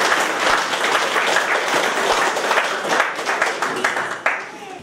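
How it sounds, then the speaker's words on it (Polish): Sustained audience applause with dense clapping at a folk ensemble's 15th-anniversary jubilee concert, loud and steady throughout, with a few sharper claps standing out near the end. "Brawa po raz pierwszy!"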